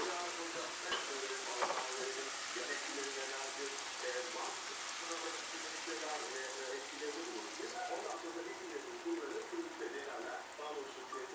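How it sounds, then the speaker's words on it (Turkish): Egg poured over cooked broccoli fries in a pan, giving a continuous soft sizzle and crackle that runs the whole way through at moderate volume. "Yaptığım yumurtayı brokolilerin üzerine boşalttım."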